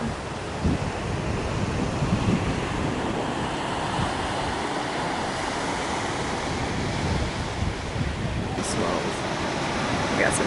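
Big ocean waves break on a Hawaiian shore near a resort, giving a constant loud surf roar with wind buffeting the microphone and brief voices near the end.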